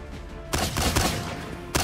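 Gunfire in the video game Miscreated, a sustained loud burst of shots running about a second and a quarter after a quiet lead-in, with another sharp crack right at the end; no talking.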